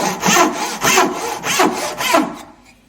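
A Japanese rip-cut saw ripping through timber with four long, even rasping strokes, loud and close, with no talk, trailing off at the end.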